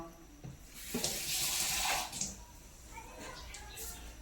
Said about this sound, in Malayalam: ഒരു ലേശം വെള്ളം കുടഞ്ഞു കൊടുക്കുന്നുണ്ട് കേട്ടോ